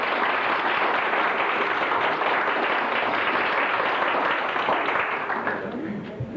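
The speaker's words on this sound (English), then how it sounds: "I think we should owe him a great round of applause" An audience at a 1991 Lyons reunion gathering applauds in a dense, steady wash of many clapping hands that fills the whole stretch, then thins and fades slightly toward the end.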